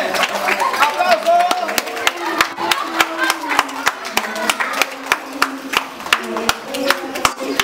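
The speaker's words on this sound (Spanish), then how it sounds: "¡Aplauso!" Audience clapping at a runway show at a festival, sharp individual claps in a fairly regular rhythm close by, over voices and some tonal background sound.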